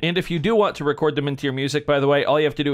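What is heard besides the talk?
No distinct noise like a dog, phone or traffic.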